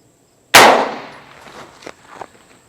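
An Extar EP9 air pistol fires a single sharp, loud report at a target, followed by a ringing decay and a couple of fainter metallic knocks, with no talk.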